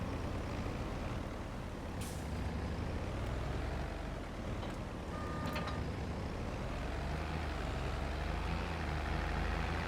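A tractor engine labours under a heavy implement in Farming Simulator 22, a steady loud droning rumble with a wavering pitch and a few faint beeps and hisses, alone without talk.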